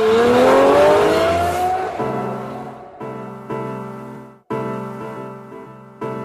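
A Lamborghini sports car roars loudly as it accelerates hard, its engine pitch climbing and then dropping through several quick gear changes.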